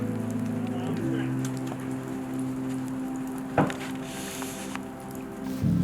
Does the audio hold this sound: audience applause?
no